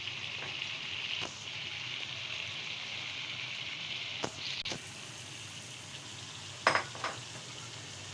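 Soft, steady sizzle of spinach frying in tomato masala in a pan for aloo palak, a low continuous crackle with a few sharp clinks of a spoon against the pan.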